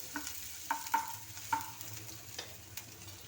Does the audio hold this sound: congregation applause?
no